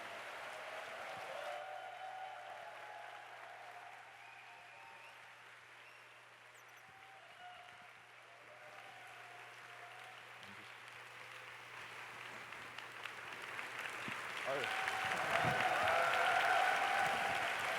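Steady applause from an audience at a church youth retreat talk show fills the room throughout, swelling louder near the end.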